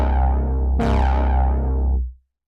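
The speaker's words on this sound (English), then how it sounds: "we've instantly made an interesting and somewhat evolving thick pad sound like" Thick, evolving synth pad swelling as a sustained chord, brightening sharply partway through as its upper harmonics sweep downward, then cutting off quickly into silence; loud and alone, no voices.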